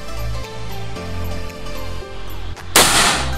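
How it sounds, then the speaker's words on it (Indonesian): An Ataman Mini PCP air pistol fires a single loud, sharp shot near the end, after a short stretch of pulsing mechanical hum. "Kita akan tes power untuk tembakan yang pertama."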